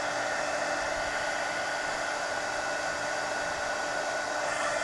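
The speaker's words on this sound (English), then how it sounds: "let me hit that with the heat gun so I make sure it's dry" A heat gun blows steadily over a freshly inked coloring book page, a constant close whooshing roar with no pauses for the full stretch.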